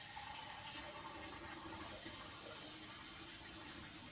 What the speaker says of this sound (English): We put in the sink and fill with water so it doesn't, get stuck to the glass.